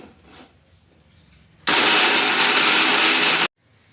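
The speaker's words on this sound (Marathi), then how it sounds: "आता आहे ना सुरुवातीला हे कोरडंच वाटून घ्यायचं" A mixer grinder dry-grinds cumin seeds and coriander, a loud steady whir starting abruptly, running for about two seconds at constant intensity, then cutting off sharply into a quiet kitchen.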